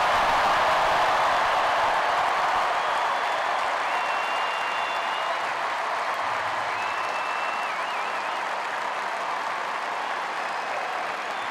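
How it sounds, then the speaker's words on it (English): A big crowd at a Carolina football event applauds Mike and Jordan in a sustained, loud wash of clapping and cheering, with faint high whistles rising above it. "how about one more welcome home round of applause for Mike and for Jordan?"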